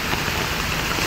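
Steady monsoon rain pours down over a city in Madhya Pradesh, a dense, even hiss that stays constant throughout with no voices.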